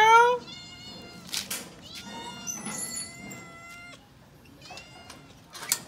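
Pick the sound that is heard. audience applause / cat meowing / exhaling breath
cat meowing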